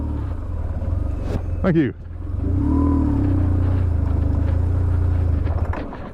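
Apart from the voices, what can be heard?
BMW R1150GS motorcycle engine with clutch slipping in mud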